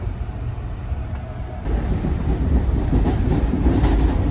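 A New York City train rolls along the rails with a steady low rumble and rhythmic clatter, growing a little louder partway through, with no voices.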